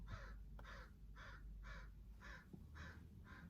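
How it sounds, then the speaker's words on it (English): A crow caws seven times in a steady, evenly spaced series, heard from inside a car with faint background rumble. "There's a crow"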